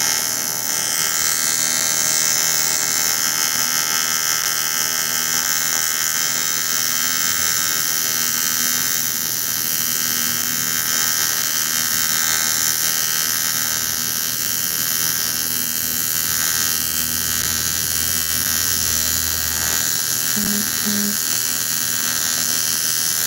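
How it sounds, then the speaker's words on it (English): TIG welding a sandwich weld at 100 amps with a 1/16 inch tungsten produces a steady, continuous electric hum and buzz that holds unbroken at an even level throughout. "Let's see how it does with a sandwich weld."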